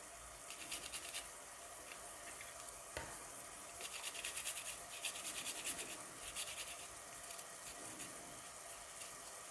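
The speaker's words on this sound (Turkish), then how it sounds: "O yüzden 3 diş rendeleyeceğim." Three small garlic cloves rubbed against a grater, soft rhythmic scratching strokes in short bursts, quiet and close, no voices.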